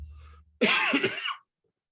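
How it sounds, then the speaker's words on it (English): A single short, harsh cough during a webinar, close and loud, bursting out after a moment of quiet and ending abruptly. "Sorry about that cough."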